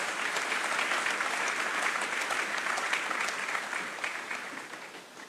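Sustained applause fills the room, welcoming Director Andron Alfonso at the inauguration of the Vreed-en-Hoop Shorebase in Guyana. The clapping stays dense and even throughout, then eases slightly toward the end.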